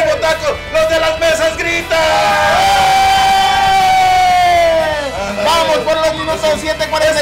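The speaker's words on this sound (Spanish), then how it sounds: "¡Los de las mesas gritan!" Diners at the tables of a taco-eating challenge shout and cheer loudly in a dense, rising crowd roar. Long sustained yells swell in the middle before breaking into choppier whoops.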